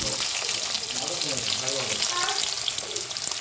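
Garlic, chopped onion and chopped tomato fry in a pan with loud, dense sizzling and crackle, close and steady throughout with no talking.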